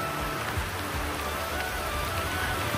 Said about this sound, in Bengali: আর আজকে জাস্ট এই বৃষ্টিতে ভিজতেছি